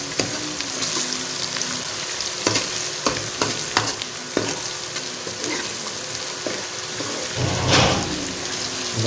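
Crushed ginger and garlic frying in a pan for masoor dal, a steady close sizzle with clicks of stirring and a louder burst of crackling near the end, no talking.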